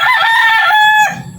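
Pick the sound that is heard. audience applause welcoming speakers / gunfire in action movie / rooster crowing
rooster crowing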